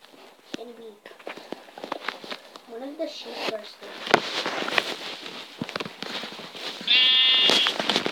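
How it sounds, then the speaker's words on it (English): Several short sheep bleats sound in Minecraft amid clicks, thuds and other effects, with a brief higher chirping tone near the end. "I see more sheep down there."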